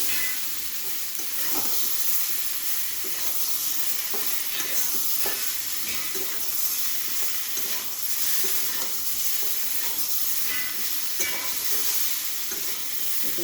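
Fried cauliflower, potato and egg being sautéed with spices in a pan, a continuous sizzle with scraping stirs recurring irregularly throughout, steady and close, with no talking.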